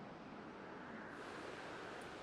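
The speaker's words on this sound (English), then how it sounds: "doing so made air gusts appear from the ground" In Zelda: Skyward Sword HD, gusts of air rise from the ground with a steady, full rushing whoosh that holds at a constant level for a couple of seconds, with no voices over it.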